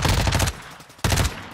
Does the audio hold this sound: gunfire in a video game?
yes